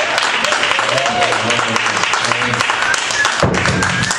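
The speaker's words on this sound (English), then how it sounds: "Everybody, applaud for Loris earlier" Comedy club audience applauding during an improv games show, a steady broadband wash of clapping that holds through the whole stretch with a few low thumps and some voices mixed in.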